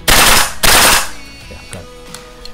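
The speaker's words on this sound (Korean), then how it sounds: "이제 좀 전에 여러 발 쏠 때 퍽퍽퍽 하면서 약간 부조화가 일어났거든요" An AK74UN gas blowback airsoft rifle fires two loud, sharp bursts close by, each lasting about a third of a second, followed by fainter mechanical clatter and ringing.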